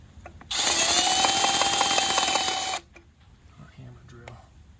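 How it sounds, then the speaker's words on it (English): A hammer drill bores into part of a 1978 Honda CB750 rear wheel in one steady high whine of about two seconds, loud and close, with quiet workshop noise before and after. "so I'm gonna drill it out."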